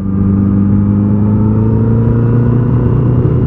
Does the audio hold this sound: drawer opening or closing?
no